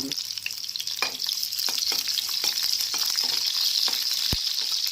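Chopped onion fries in hot oil for upma pesarattu, a steady close sizzle with occasional spoon clinks and stirring scrapes against the pan.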